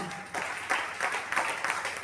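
Audience at a school gathering applauds for a doctor, a steady broadband patter of many hands clapping at moderate volume for about two seconds, with no talk over it.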